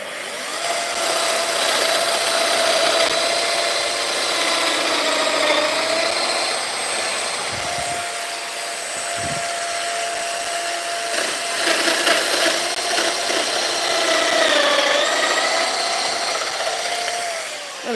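A Festool Domino 700XL doweller cuts mortises into wooden stair parts: a close, steady motor whine with a rasping, chattering cutter that rises and falls across repeated plunges, with a couple of short knocks midway.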